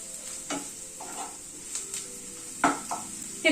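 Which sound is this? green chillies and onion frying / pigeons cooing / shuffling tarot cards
green chillies and onion frying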